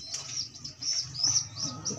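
Blue bar pigeons make faint chirps and light calls across a couple of seconds, with a soft fluttering undertone and occasional low coo, nearby and quiet.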